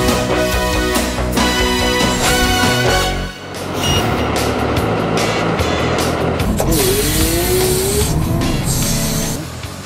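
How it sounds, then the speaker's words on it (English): A Case wheel loader labors and slides on site, its engine roaring and straining continuously with shifting tones and scraping movement. "What's that wheel loader that's struggling over there?"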